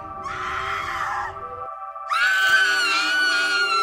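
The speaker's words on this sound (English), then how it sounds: "And then she began to scream as I heard bones cracking." A woman screams in a horror story scene, two sustained high shrieks separated by a short silence, the second louder and more strained.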